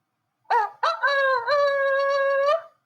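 A rooster crow played by a robot toy, starting with two short clipped notes before a long sustained cock-a-doodle-doo call, close and clear with no voices.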